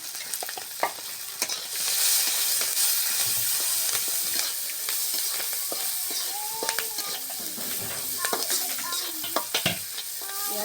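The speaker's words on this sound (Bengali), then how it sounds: "পেঁয়াজটা সুন্দর করে লাল লাল করে ভাজে নিব।" Chopped onions, green chilies, bay leaves and garam masala sizzle steadily in a pan while a utensil stirs them, giving continuous close frying hiss broken by scraping clinks.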